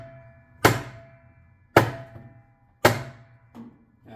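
A hammer strikes a Whirlpool/Maytag washing machine drive block in three sharp, evenly spaced metallic bangs about a second apart, each ringing briefly, with a softer fourth knock at the end.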